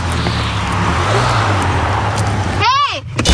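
A taxi car pulls up close over steady road and engine rumble, its noise swelling throughout before a short whistling electronic chirp near the end.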